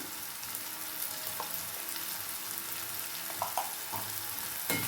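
Softened tomatoes with turmeric sauté in a pan with a steady, close hiss of frying. Occasional scrapes and light clinks from stirring cut through the sizzle, and no one speaks.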